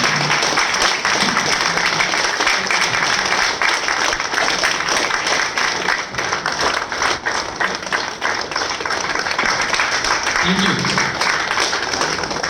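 An audience at a company business event applauding to welcome a speaker to the stage, sustained steady clapping from a crowd with voices mixed in, fairly loud and continuous throughout.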